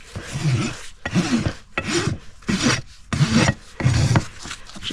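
A farrier's rasp drags over a horse hoof during a trim, smoothing it from the top: steady, close scraping strokes in a repeating rhythm of about six passes, each a rough rasping burst separated by brief pauses.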